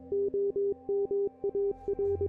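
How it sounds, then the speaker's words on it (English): Morse code-like electronic beeping in the horror game I'm On Observation Duty: a steady tone pulsing in short and long beeps with uneven gaps, clear and alone. "Is this Morse code?"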